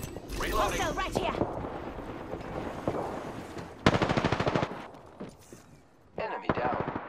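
Apex Legends gunfire comes in rapid automatic bursts, one loud close burst in the middle and another near the end, over game noise while voices call out.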